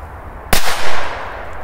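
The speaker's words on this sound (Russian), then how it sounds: "первый взрыв" A single firecracker bursts outdoors with one sharp, loud bang, followed by a short echoing rumble that fades quickly.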